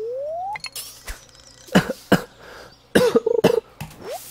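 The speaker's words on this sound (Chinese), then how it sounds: "我在咳嗽。" Several short, sharp coughs from a nearby person come in separate bursts, with a quick cluster near the middle and a rising squeaky tone at the start and end. No speech is heard.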